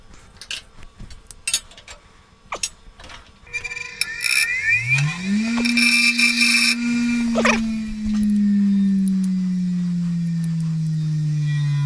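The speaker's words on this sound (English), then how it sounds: "just got to grind it a little bit" Power grinder working a metal part during a Honda XR100R dirt bike rebuild, clanking tool handling at first, then the motor spinning up to a sustained high whine that holds steady while metal is ground, close and loud.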